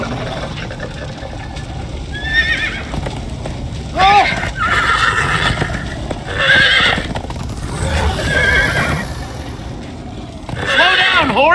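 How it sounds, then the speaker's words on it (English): Horses in the video game Minecraft: Story Mode neigh repeatedly in loud, rising whinnies over continuous galloping hoofbeats, with speech mixed in beneath. "Slow down, horse!"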